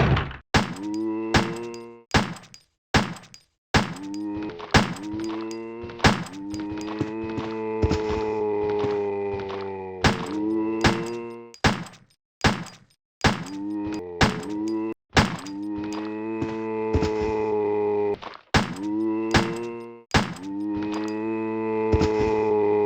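Repeated Beretta handgun shots at zombies in Resident Evil 1, sharp percussive bangs fired in bursts of several shots over a sustained musical hum, with brief pauses between groups.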